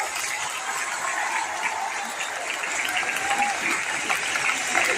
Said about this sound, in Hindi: एक बार जोरदार ताली हो जाए everyone.